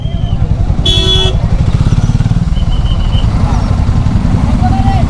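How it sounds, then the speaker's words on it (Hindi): An old F250 motorcycle rides through a traffic jam on the road toward Mahabaleshwar, its engine a steady low throb throughout, with a short horn blast near the start and faint traffic around. "ये मेरी पुरानी बाइक"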